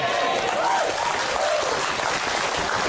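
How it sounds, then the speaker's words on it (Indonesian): Audience applauding at an Indonesian comedy sermon on a TV show, a dense steady wash of clapping throughout with a faint voice-like tone beneath. "Nah, tepuk tangan"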